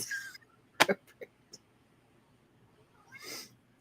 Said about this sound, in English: He has such a distinctive meow